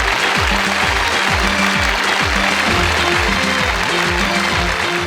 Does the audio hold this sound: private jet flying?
no